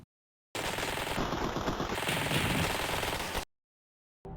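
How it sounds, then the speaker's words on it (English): Minigun firing in the retro sandbox FPS game Chitin: one loud, continuous burst of rapid automatic fire lasting about three seconds, then silence, with a brief restart at the very end. "Minigun."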